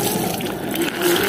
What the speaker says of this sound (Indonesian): Langsung aja gua udah siapin buat airnya, kita siram. Kita bilas.